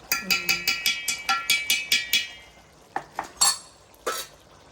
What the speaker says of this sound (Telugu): ఇలా వెన్న వేసుకుని ఒకసారి ఇలా తిప్పేద్దాము